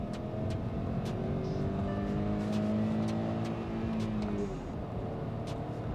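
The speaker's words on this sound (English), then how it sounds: "So this is the 1-liter turbo petrol engine" The 1-liter turbo petrol engine of a 2022 Hyundai Venue facelift pulls steadily under acceleration, its tone rising gradually over a constant road and tyre roar from inside the cabin.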